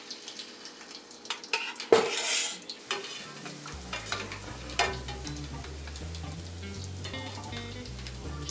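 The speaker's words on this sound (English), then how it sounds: "then you're gonna get your chopstick, mix it up." Clicks and scrapes sound as a chopstick stirs tempura batter, then a steady oil sizzle from nearby frying runs underneath the intermittent mixing.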